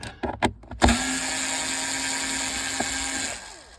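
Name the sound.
unscrewing a screw behind Ford C-Max radio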